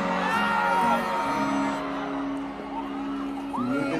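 Concert crowd at an amphitheater country festival cheering and whooping loudly, a continuous roar of many voices with louder yells at the start and near the end, over a faint musical tone.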